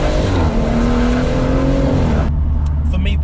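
A BMW M140i accelerates hard, engine note rising steadily before a quick upshift cuts it off abruptly, followed by short crackles and pops, loud and close with no talk over it.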